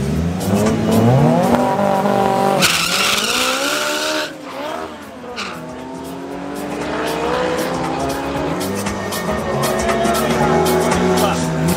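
A drag racing car launching hard down the strip at Midvaal Raceway, its loud engine climbing through rising gear pulls with a brief dip between shifts, as an announcer talks over the roar.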